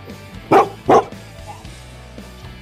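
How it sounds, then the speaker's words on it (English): Dogs barking near a beach during a bike ride in California, with two loud, close barks in quick succession and a fainter third at the end over steady low road and wind noise. "Dogs."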